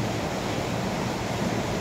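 Water in a cooking pot at a rolling boil, heard as a steady, dense bubbling hiss that holds evenly throughout, close and fairly loud with no voices over it.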